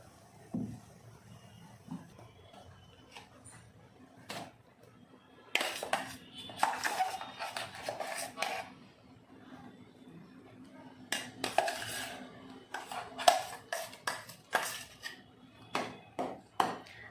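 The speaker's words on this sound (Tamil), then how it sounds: "அரைச்சி வச்சுருக்க தேங்காய் பேஸ்ட்டை சேர்த்து விடாமல் கிண்டிக்கிட்டே இருக்கும்." A spoon scrapes and knocks against a pan while coconut paste is stirred into boiling milk for coconut milk khoa, with irregular clusters of metallic clinks and scrapes separated by quieter stretches.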